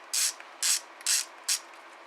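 A ratchet loosening nuts on Cummins common rail injectors, giving four crisp evenly spaced bursts of clicking, close up and loud with no talking.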